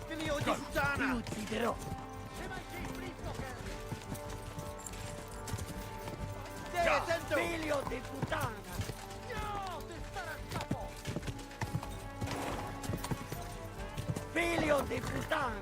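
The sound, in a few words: horse galloping in video game Kingdom Come Deliverance 2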